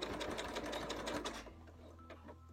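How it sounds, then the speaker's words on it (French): A sewing machine runs in quick, steady stitching bursts while a trouser hem is sewn onto elastic, then slows and stops, leaving faint mechanical ticks at close range. "pour pouvoir fixer notre couture sur l'élastique"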